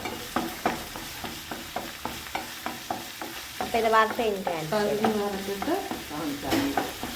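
Chopped ginger fries in a pan, with a regular rhythm of close spatula stirring scrapes over a soft sizzle, growing busier and crackling midway.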